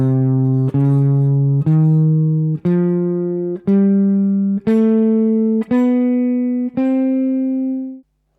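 A C Neapolitan major scale played as eight separate sustained notes stepping steadily upward, each one clear and evenly spaced, ending on a held final tone with nothing else heard.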